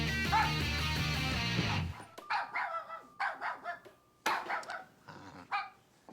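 A cartoon dog barks in a quick series of loud yaps and bow-wows after a burst of music, the barks coming in short separated bursts.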